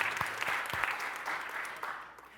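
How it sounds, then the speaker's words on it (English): A congregation at a holiday service applauds, a soft, even patter of many hands heard from a distance and sustained briefly without talk. "yes, let's give them a round of applause."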